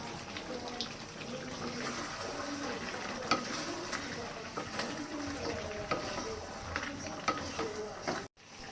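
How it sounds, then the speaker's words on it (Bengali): Goat meat being stirred in a pot on the stove, a steady close scraping and soft sizzling that carries on for several seconds, with faint watery sounds in the background and a sudden drop near the end. "গোশতটা এবার একটু নেড়ে দিই হালকা করে।"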